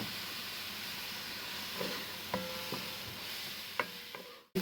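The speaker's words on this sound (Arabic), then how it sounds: "نحرك البصل الى ان يدبل" Onions sautéing in a pan while being stirred, a steady soft sizzle with a few scraping, clinking stirs breaking through before a sudden cut at the end.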